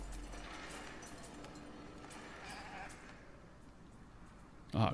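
Sheep bleat on a farm in the city-building game Foundation, a few moderate calls over steady background game ambience, with a loud thud at the very end.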